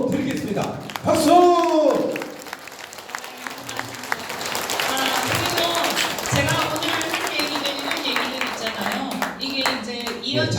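An audience at a lecture by a National Assembly member rises for a standing ovation. Loud, sustained clapping fills the room and continues steadily, with voices heard near the start.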